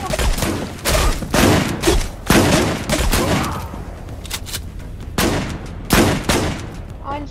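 Gunfire in the video game Zula rings out as a series of loud, sharp bursts and single shots at uneven intervals, with brief pauses between volleys.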